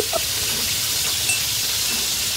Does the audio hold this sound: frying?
yes